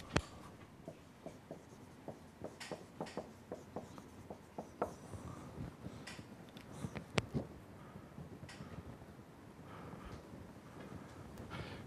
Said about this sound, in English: Let me write it.